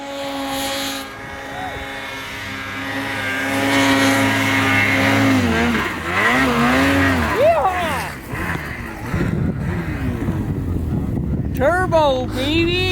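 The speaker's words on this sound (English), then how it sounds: "You're liking the Skidoo, aren't you? Oh yeah, gotta love the power." A turbocharged Ski-Doo snowmobile rides through the snow while its engine revs up and down in repeated swells, with gusts of wind over the microphone and a roar that changes as the sled speeds up and slows.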